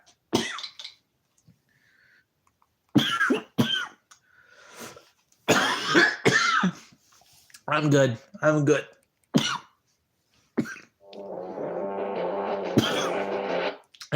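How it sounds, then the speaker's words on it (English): Several harsh coughs and throat-clearing bursts come in scattered fits between brief spoken phrases, ending with a longer raspy, strained exhalation. "I can't stand this cough."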